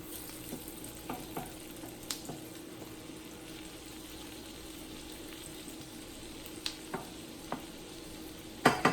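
Onions cooking down in a pan, a steady soft sizzle with occasional light scrapes and taps from stirring, fairly quiet and with no talking.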